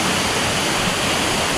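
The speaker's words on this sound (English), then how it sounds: "What a beautiful waterfall, eh?" Steady, loud rushing roar of a waterfall pouring into the Maguk plunge pool in Kakadu, a continuous dense hiss of falling water with no breaks.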